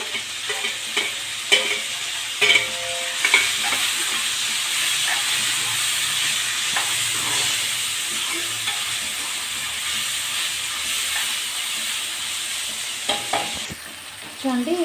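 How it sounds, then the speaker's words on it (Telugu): Tomatoes fry and soften in a pan for a fish curry, giving a steady, close sizzling hiss that runs throughout, broken by a few brief stirring clatters, with no talk. "అలానే టమాటో కూడా వేసుకొని మగ్గించుకోవాలి"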